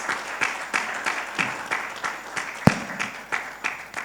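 An audience at a chartered accountants' felicitation event applauds to welcome a speaker, a steady round of claps with rhythmic accented beats and one sharp loud clap standing out near the end, fairly close and continuous.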